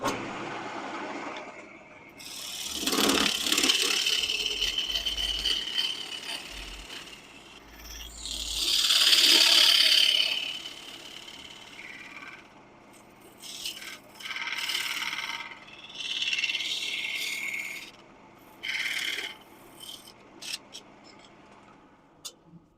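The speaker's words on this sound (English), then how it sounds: "now that means I need to take that tenon down" Wooden tenon being turned down on a lathe: a gritty, rasping cut from the tool on spinning wood, swelling and fading in bursts over a low running hum, close, with no talking.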